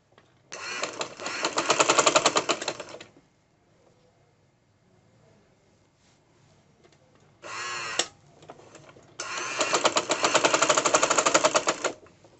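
A sewing machine stitching a straight seam in fabric for a girls' top, heard as three close, loud runs of rapid mechanical clatter separated by quiet pauses.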